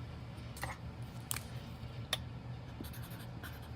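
Pen writing on Mango Melody cardstock while making a card, faint scratchy strokes in a few short bursts over a low room hum, with no talking.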